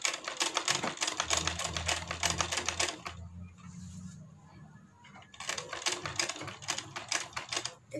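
A sewing machine stitches blouse fabric with a fast, close, rattling clatter that stops for about two seconds midway while a low hum continues, then starts up again.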